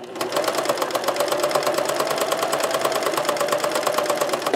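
A sewing machine runs steadily while stitching flat fabric to repair a hole, its rapid, even needle chatter continuing at close range for the whole stretch with no talk.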